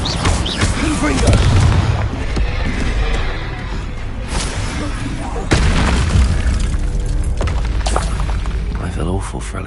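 The Confringo blasting spell from the Hogwarts Legacy video game explodes in repeated booming bursts, loud and near over rumbling game noise, with a voice speaking at times.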